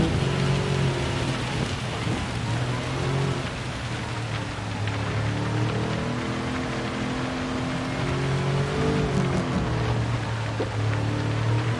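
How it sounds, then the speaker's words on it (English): Steady, heavy rain and rolling thunder from the Gran Turismo 7 racing game, loud and continuous throughout, with a low engine drone running underneath. "See that, guys, is why you don't drive on slicks in the rain."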